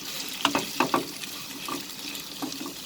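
Potatoes and flat beans being stirred and fried in a pan, with a few quick close scraping clatters early on, then softer sizzling and occasional light stirs.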